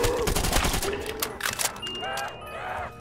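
A fast burst of automatic fire from an FG-42 machine gun in a zombies custom map, rapid close cracks in the first second and a half, then quieter game effects and chimes.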